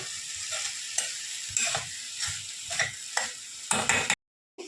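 Tomatoes stirred into vegetables cooking in a pan, with a spoon scraping in repeated strokes over a constant sizzle, close and fairly loud, ending abruptly in silence.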